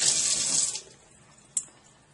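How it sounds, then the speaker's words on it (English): Hands are rinsed under a running sink tap, a close hiss of flowing water that stops after about a second, followed by a single small splash or drip. "if you need to, you can rinse your hands"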